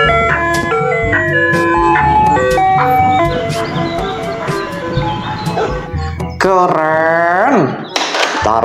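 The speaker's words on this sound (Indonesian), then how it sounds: "Yang ini ada mobil es krim." A toy ice cream truck plays a loud, bright electronic jingle of steady melodic notes, ending in a rising warbling electronic flourish and a few dog-like yips.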